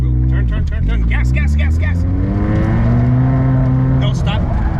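A low-horsepower car revs and accelerates in a parking lot, engine pitch climbing then holding in a loud sustained drone, with a voice talking over the start.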